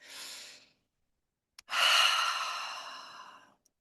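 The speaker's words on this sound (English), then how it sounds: "Just landing in this space and just taking a few deep breaths." Two slow, deep breaths close to the microphone in a quiet room during a guided breathing session: a short exhale, a pause, then a long breath drawn in and released with an audible sigh.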